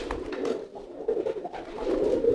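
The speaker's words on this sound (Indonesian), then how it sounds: "terus merpatinya itu selalu aja bekur-bekur." Pigeons coo in low, throaty, repeated bursts, close by and continuous, with rustling in the background and no speech.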